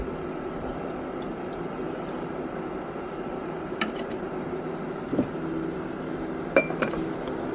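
RAM sticks are stirred in nitric acid inside a glass container, giving soft intermittent clinks and taps over a faint steady hiss, close and quiet, with a few sharper glassy knocks.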